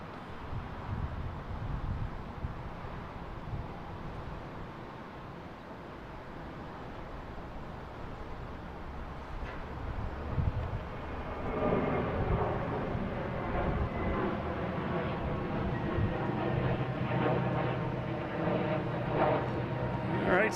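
A Delta airliner on its takeoff roll out of Boston Logan, bound for London Heathrow, rising from a distant rumble into a loud, sustained engine roar with whining tones in the second half, mixed with wind noise.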